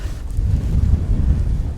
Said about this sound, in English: Oh, that's a bit of a gust as well.